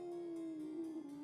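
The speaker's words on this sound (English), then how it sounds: "you hear the howl of a wolf" A single long, steady canine howl, sustained and fairly faint with a slight waver in pitch, in keeping with a wolf calling in the distance.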